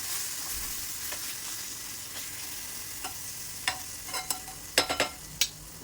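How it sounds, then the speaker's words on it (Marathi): Masala gravy for egg curry sizzles in a pan after a little water goes in: a soft, steady frying hiss that grows busier toward the end with several quick crackles and clinks, no voices. "याच्यामध्ये थोडंसं पाणी टाकलं की गॅसची फ्लेम लो करायची आहे."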